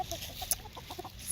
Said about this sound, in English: you can also hear my chickens are free-ranging around here,